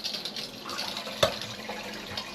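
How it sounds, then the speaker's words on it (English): Water running into a newly installed space-saving toilet as the system fills toward the overflow, a steady close hiss and trickle with one brief louder splash partway through. "that's going to fill up the system to the overflow, and it'll start coming out of the pan in a second"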